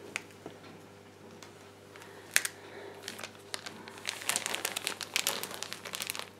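A sheet face mask sticker is peeled off, making close, faint crinkling and crackling of plastic and paper that grows busier and denser toward the end.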